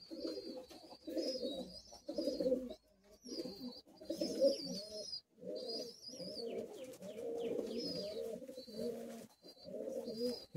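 Madrasi high flying pigeons coo steadily in a Kolkata loft, overlapping rolling calls running nearly nonstop at close range, with faint higher chirps above and a few brief pauses between bursts.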